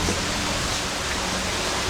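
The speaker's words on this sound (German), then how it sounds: "Oh, ja, es regnet." Steady rain falls at night as a constant, dense hiss of drops, loud and unbroken throughout, with no voices.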